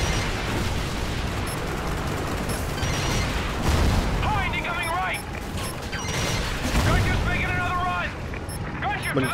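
Gunfire and explosive bursts from the first-person shooter Call of Duty: Ghosts, a dense, loud stream of shots and blasts with mechanical clatter, layered over game music and other effects throughout.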